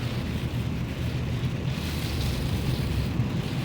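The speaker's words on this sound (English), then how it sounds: "It might be a little difficult to hear me when that AC starts kicking on." A car's air conditioning blows hard during a vintage nitro road trip, giving a loud, steady, broadband rush of air that fills the cabin without letup.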